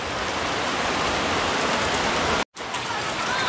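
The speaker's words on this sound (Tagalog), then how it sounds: "hindi na yata tigil ang ulan mga kabayan" Heavy, continuous rain pours over a house renovation site in Bicol, a loud steady hiss filling the whole clip with one brief dropout near the end.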